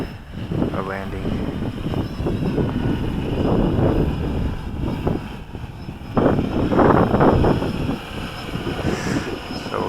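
A WLToys V303 Seeker quadcopter drone with a RunCam FPV camera flies in to land over a baseball field, its steady whirring motor hum continuous and fairly close amid wind noise, with someone talking over it.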